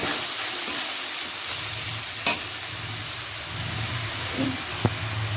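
A spice paste of ground green chilli with turmeric and salt sizzles steadily in a hot pan, a close, continuous frying hiss with occasional stirring scrapes and no talk.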